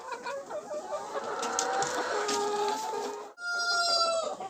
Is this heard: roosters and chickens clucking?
yes